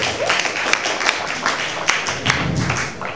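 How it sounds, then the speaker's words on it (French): An audience at a slam poetry final applauds, a dense, steady patter of many hands clapping close by with a few sharper individual claps standing out. "Merci de les ovationner, s'il vous plaît. Merci de l'applaudir."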